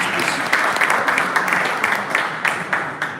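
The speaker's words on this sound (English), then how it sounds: "Give it a round of applause for the aspiring candidates" Audience applause for election candidates at an association convention's evening session, a steady dense clapping from a hall crowd that carries at even loudness throughout.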